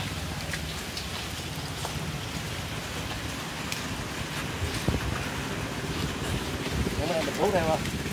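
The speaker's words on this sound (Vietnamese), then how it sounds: "Trời thì cũng đang mưa quá" Heavy rain pours onto a small boat on a river, a dense constant patter on the surfaces with a few louder drops, ending in brief chirping near the close.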